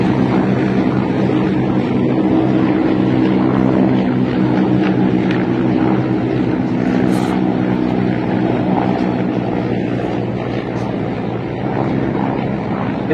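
Many military helicopters flying over a Ukrainian area, blending into one loud, continuous rotor and engine drone with a steady low throb and wind buffeting on the microphone, and no breaks throughout.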